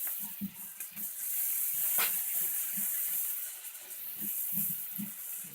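Smoked sausages and a tablespoon of minced garlic sizzle softly in a pan as they are stirred, a faint steady hiss with intermittent low scraping and stirring knocks, no talking.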